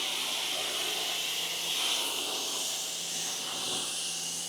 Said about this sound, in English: And then let's spray the rest.